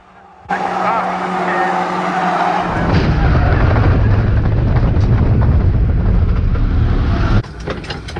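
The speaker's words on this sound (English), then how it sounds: "The 633 car understeers into the wall, wipes me out straight onto the football pitch" A race car at Cowdenbeath Racewall understeers into the wall with a loud tire skid that swells into a roaring grinding impact and scrape lasting several seconds, then drops abruptly to a lower rumble; engine noise is close and loud throughout.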